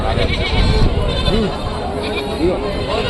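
Goats and sheep bleat at a busy village livestock market, several overlapping calls over a loud crowd murmur and nearby talking.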